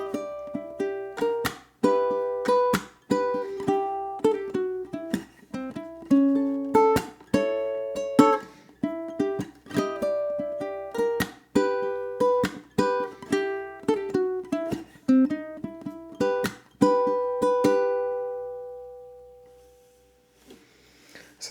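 A ukulele plucks the first horn section of a theme tune, with clear separate notes and strummed chords in a steady rhythm for about eighteen seconds before ringing out alone.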